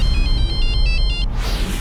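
A mobile phone ringtone rings unanswered in short repeated bursts of bright electronic tones, loud and close, cutting off after about a second.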